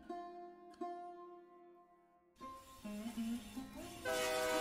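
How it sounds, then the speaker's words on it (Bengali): A train sounds long horn blasts, then rumbling and clattering build as it begins moving, with further horn tones rising near the end. "ট্রেন ছেড়ে দিয়েছে।"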